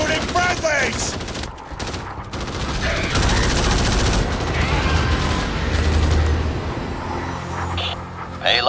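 Dense, sustained automatic gunfire rattles almost nonstop in the Starship Troopers Extermination shooter game, loud and close, with a layered rumble beneath and background game sounds throughout.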